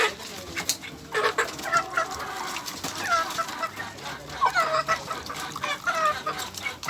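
Pet chickens clucking in a backyard flock, several birds giving repeated short clucks and calls near and far over steady outdoor background noise.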